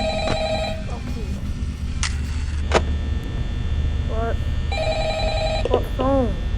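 An old telephone rings in the Five Nights at Freddy's video game, with two clear bursts of repeated electronic trills over a low steady hum, alongside brief game clicks and beeps.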